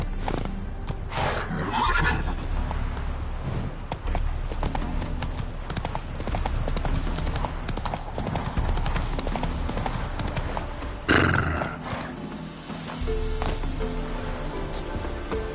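Horse hooves clip-clopping at a steady gallop in The Witcher 3, with occasional whinnies and neighs over continuous game ambience, fairly loud and close throughout.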